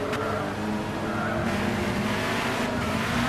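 A Nissan Zytek LMP2 race car in Gran Turismo 6 at Le Mans, its engine droning steadily at speed with shifting pitch as it runs toward the finish, moderately loud and with no talk over it.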